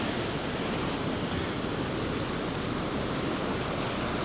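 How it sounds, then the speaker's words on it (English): Ocean waves breaking on the shore at Da Nang, Vietnam, a continuous broad wash of surf with faint brief hisses, steady and moderately loud. "I really like the sound of the waves."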